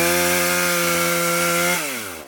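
A Husqvarna 440 chainsaw cutting wood roars at a steady high rev close by, then winds down as the throttle is released near the end.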